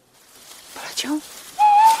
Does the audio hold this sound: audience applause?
no